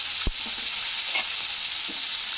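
Ginger paste and turmeric frying in hot oil, giving a steady bright hiss close by, with a sharp spoon knock at the start and a few faint scraping stirs, no voices.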